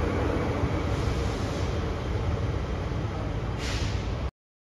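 A train at București Nord station rumbles steadily and loud, with a brief hiss near the end before it cuts off abruptly.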